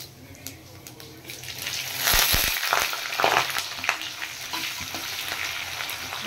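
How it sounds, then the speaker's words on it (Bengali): Chopped onions with whole cumin frying and sizzling in hot oil in a pan for a paneer dish, a steady close crackle with stirring bursts and scraping in the middle. "পেঁয়াজটা আমি একটু লাল করে ফ্রাই করে নেব।"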